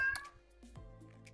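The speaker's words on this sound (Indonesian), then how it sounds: "dan ini ada kucing meok-meok melulu, si COVID itu ya." A cat meows outdoors beside a brick wall and stairs, two short close meows in quick succession, fairly loud against a quiet background.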